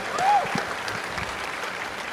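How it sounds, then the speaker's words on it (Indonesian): A crowd at a youth political rally in Semarang gives a short burst of applause, clapping fairly distant and modest, fading as a brief whistle-like tone rises over it. "Boleh kasih tepuk tangan dulu dong buat Manai."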